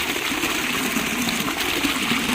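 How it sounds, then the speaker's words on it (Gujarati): Irrigation water gushes steadily along a farm channel toward coconut palms, a loud, continuous rushing flow close by with no voices. "પાણી નારિયેલીમાં જાય છે"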